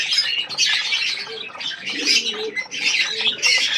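Pigeons in a loft coo softly in repeated low phrases, with chirps and brief wing flutters close by and no talk.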